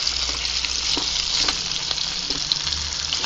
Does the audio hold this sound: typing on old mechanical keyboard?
no